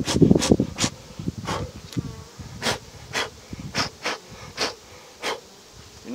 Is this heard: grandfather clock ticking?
no